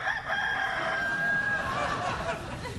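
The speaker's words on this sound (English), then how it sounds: "there's a monkey that sounds like a chicken" A monkey gives a chicken-like call, a short crowing, clucking burst with a bright sustained tone, heard alone at moderate loudness.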